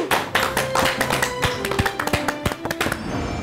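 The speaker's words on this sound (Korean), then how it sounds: "큰 박수 부탁드립니다." Studio audience clapping in a Korean TV lecture hall as a psychologist guest is welcomed, sharp individual hand claps close and loud, with some musical tones running underneath.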